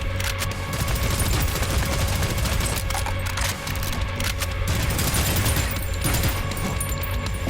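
Rapid continuous gunfire from the video game Prodeus, a dense, loud stream of shots with rattling mechanical clatter and no pauses throughout.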